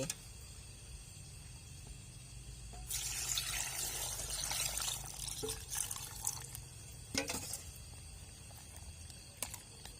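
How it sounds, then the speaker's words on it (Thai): Cooled syrup is poured over pickled sour mango in a steady liquid stream for a few seconds, framed by quieter trickles and drips, with no talking. "น้ำเชื่อมเราก็เย็นแล้วเนาะเดี๋ยวเราก็จะเทใส่"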